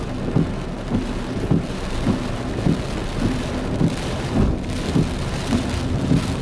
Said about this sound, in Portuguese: Agora com chuva, né?